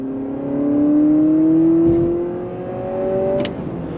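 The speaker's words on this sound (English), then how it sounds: "you are going to hear that 4-cylinder working overtime when you go on throttle" A 2023 Honda CR-V's four-cylinder engine paired with a CVT accelerates under throttle, a steady droning rev that climbs in pitch through simulated shift steps, heard from inside the cabin with no talking.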